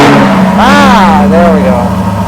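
A very loud Chevrolet Corvette V8 just fired up and idling, a constant heavy engine rumble heard close, with a person speaking over it briefly.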